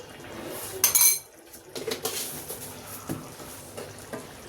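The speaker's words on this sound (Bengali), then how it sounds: "আমি এখন এর মধ্যে 3 চামচ চিনি দিচ্ছি।" Metal spoon clinking against a pot while sugar is stirred into a coconut milk pilau, a brief cluster of bright clinks followed by softer scraping and tapping, close and fairly quiet with no talking.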